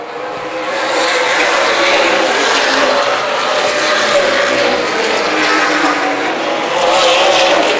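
Race cars at Dixie Motor Speedway roar through the turns in a dense, continuous wash of engine noise that stays loud and close, with no break and no audible talk.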